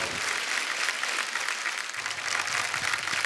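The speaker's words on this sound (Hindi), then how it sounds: "पर खैर बादशाह बाजी के लिए जोरदार तालियां।" A television comedy show's studio audience applauds a guest, a brief dense burst of clapping at fairly close range with no voices over it.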